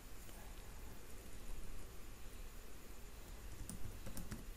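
Computer keyboard typing while entering a section title in a presentation layout, faint scattered clicks near the end over steady background hiss.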